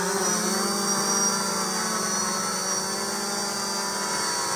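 An Eachine EX3 drone's propellers whirr steadily as it lands, a loud, continuous buzzing hum that holds level throughout with no voices.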